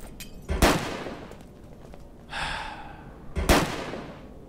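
Gunfire in the zombie survival game Fort Zombie: two sharp, loud shots about three seconds apart with a quieter burst between them, alone with no talk.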